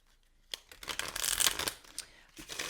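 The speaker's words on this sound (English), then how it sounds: "let me just give these a shuffle." Tarot cards are shuffled close by, giving quick riffling and flicking bursts that build to a dense flutter and then ease off, with no talking.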